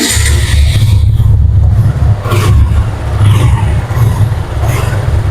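A used motorcycle with 6,000 km on it idles steadily and close by, a deep continuous rumble with a few light rising revs and no talking.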